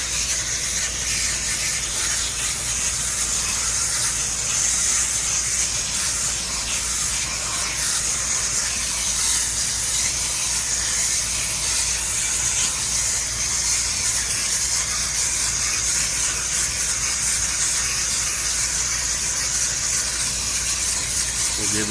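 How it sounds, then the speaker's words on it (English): Water hose spraying steadily across old AC condenser coils, rinsing off cleaner during a no-cooling service call; a continuous, close, broadband hiss with no break for the whole stretch. "We'll give these one more good rinse from the outside in"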